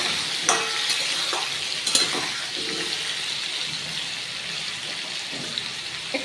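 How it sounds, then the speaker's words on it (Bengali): Pumpkin and sweet potato pieces sizzle steadily in a hot frying pan, a constant hiss broken by a few sharp clinks and scrapes of stirring, with no talking. "আমি এবারে মিষ্টি কুমড়ো আর মিষ্টি আলুটা ছেড়ে দিলাম একটু ভাজা ভাজা হোক"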